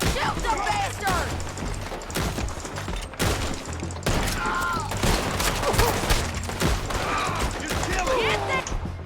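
Gunfire in Red Dead Redemption 2, repeated loud shots and scattered volleys mixed with shouting voices and crashing impacts throughout.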